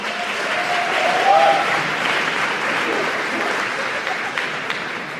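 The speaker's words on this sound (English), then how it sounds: "give yourselves a big round of applause as well" Steady, dense applause from an audience at a live campus speaking event, loud and continuous throughout, with a brief raised voice or cheer near the start.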